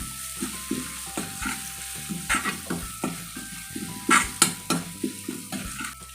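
Finely chopped onion sautés with garlic in a pan. A bright sizzle runs under a steady rhythm of spatula scrapes and taps, close and fairly loud, with no talking.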